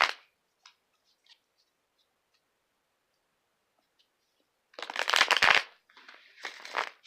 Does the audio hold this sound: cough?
no